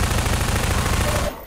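Rapid automatic gunfire in Half-Life: Prospekt, loud and continuous, stopping abruptly near the end, with the crisp synthetic quality of game weapons.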